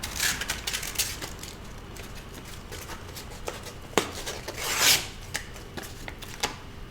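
Resin is sanded by hand with 220 grit sandpaper, giving irregular dry rasping scrapes and soft rubbing strokes with occasional sharper scuffs, close and fairly quiet.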